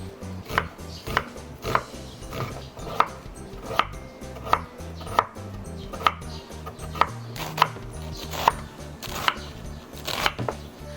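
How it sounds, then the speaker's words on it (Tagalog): Knife thinly chopping onions, carrots and cabbage on a board for spicy Korean stir-fried squid: steady, close rhythmic chops with sharp clicks of the blade, evenly spaced and heard alone. "I'm gonna cut thinly my onions, my carrots, and also my cabbage"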